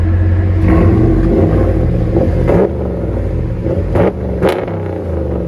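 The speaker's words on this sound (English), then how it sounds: "Here's that idle." A 2016 RAM 1500 pickup with the 5.7L HEMI V8 and dual Flowmaster Outlaw exhaust rumbles steadily at idle, loud and close, with a deep, raspy burble and a couple of brief blips partway through.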